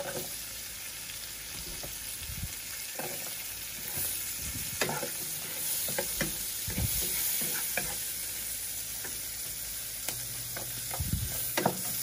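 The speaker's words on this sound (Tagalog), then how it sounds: "Lulutuin ko lang ng konti yung bawang, yung sibuyas" Garlic and onion sauté in a pan, a steady sizzle running throughout with irregular scrapes and clicks of a spoon stirring, close and moderately loud, no voices.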